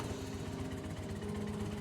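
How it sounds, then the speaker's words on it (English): A car engine idles steadily in a visual novel scene, a low continuous rumble with faint vibration heard close and alone for the whole stretch. "The sound of the engine echoed through the silent neighborhood."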